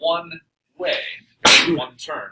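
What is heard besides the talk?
sneeze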